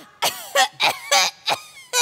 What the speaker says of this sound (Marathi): धुराने येतो खोकला